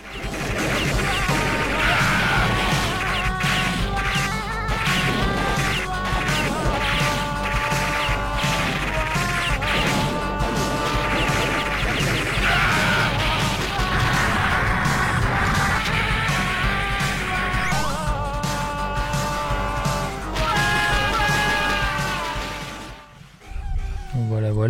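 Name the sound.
Metal Slug video game action and explosions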